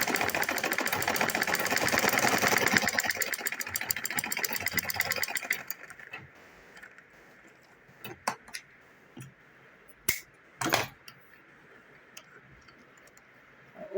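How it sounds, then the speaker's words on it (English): A sewing machine top stitches a small zippered cloth pouch, its rapid rhythmic clatter running loud for about five seconds before stopping, followed by quieter handling clicks and taps. "I'm top stitching on the wrong side."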